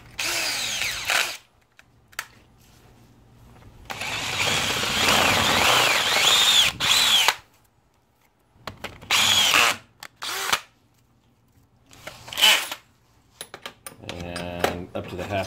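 A bench-top LMS X2 mini mill drills into acrylic with an 11/32 bit in several loud, whirring bursts separated by quiet gaps, with a voice speaking between the cuts.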